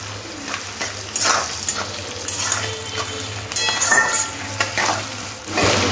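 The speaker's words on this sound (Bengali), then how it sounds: "পেঁয়াজ আর ক্যাপসিকাম আর বেশি ভাজবো না" Onion and capsicum frying in a pan give a steady close sizzle with occasional stirring scrapes and light utensil clinks, no talking.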